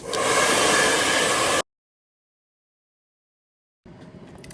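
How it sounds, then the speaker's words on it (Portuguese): A hair dryer blows loudly and steadily at close range onto the bottom of a fabric toiletry bag, then cuts out abruptly into silence before faint handling noises follow. "Agora eu coloco um pouco mais de secador aqui, ó, no fundo"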